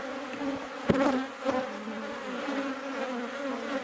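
Honeybees buzz in a steady, dense drone at an open hive with brood, pollen and nectar on the frames, close and continuous, with a couple of sharp knocks partway through.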